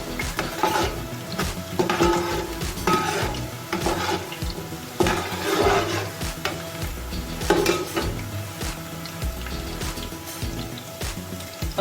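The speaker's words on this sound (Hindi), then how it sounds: "अब मैं इसके अंदर 5-6 हरी मिर्चें ऐड कर रही हूँ।" Green chilies stirred and fried in a pan for mutton mandi, a continuous sizzle with repeated scraping and clinking of a spoon against the pan, close and steady throughout.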